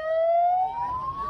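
An ambulance siren wails loudly and steadily as the vehicle travels in a wedding convoy across the Musi 4 bridge in Palembang, its tone slowly rising in a close, continuous sweep.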